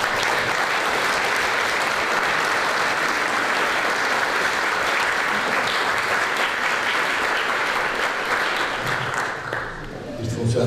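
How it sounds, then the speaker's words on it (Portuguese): Lecture audience applauding, a thick, continuous wash of clapping that holds steady at full strength for about ten seconds before easing off at the very end. "Peço uma salva de palmas."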